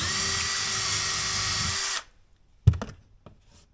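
A power drill runs loud and steady for about two seconds, opening a hole to 5/32 inch for an anchor, then stops, followed by a few clattering knocks and handling sounds.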